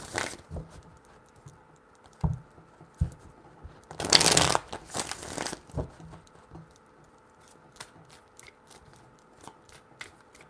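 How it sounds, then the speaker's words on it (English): Tarot cards being shuffled by hand in a few quick riffling bursts with soft taps and pauses between them, close and quiet, with no talking. "Three shuffles."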